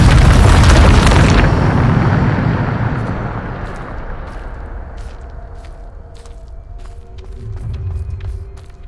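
Bombarda spell explosion in Hogwarts Legacy, a loud, deep booming blast at the start that rumbles and fades over several seconds, followed by scattered small crackles and a lighter second impact near the end.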